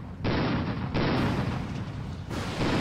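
A battleship shell salvo in the strategy game ICBM, heavy booming blasts that swell and sustain in broad rumbling waves across the clip, loud and close with no talking.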